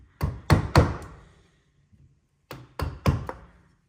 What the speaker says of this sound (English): I'm going to use a 10mm bevel edge chisel to produce my keyhole of this exercise.